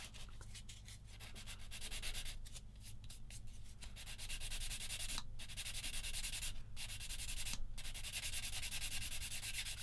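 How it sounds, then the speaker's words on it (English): A sander stick rubs back and forth over a small plastic part from a Tamiya 1/35 SdKfz 222 model kit, making a continuous close scratchy rasp with a few brief pauses over a low steady hum. "get me old trusty sander stick coming with this"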